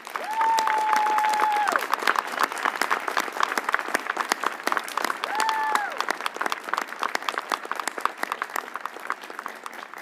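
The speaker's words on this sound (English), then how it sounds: "let's give them a round of applause" An audience at the 2021 Ohio University commencement ceremony applauds veterans, a loud, sustained roar of many hands clapping, with whistles and cheers briefly rising above it.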